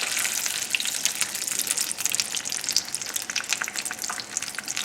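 Salmon and eggs fry on a very high flame, scrambled in a pan with salt, pepper and fresh chives, giving a steady, close crackling sizzle with bursts of stirring throughout.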